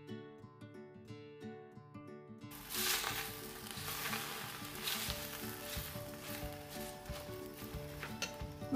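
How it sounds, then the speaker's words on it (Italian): Beans sizzle in a hot pan for Tuscan black cabbage soup, a bright crackling fry that starts abruptly after a quiet musical intro and continues steadily, close and moderately loud, with soft music underneath. "Quando inizia a sfrigolare"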